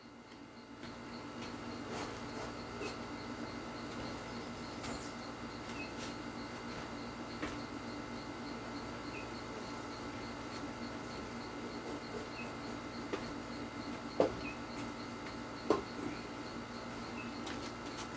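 Honey bees buzz at a hive being readied for moving, a faint, steady droning hum that persists throughout with a few brief louder ticks near the end.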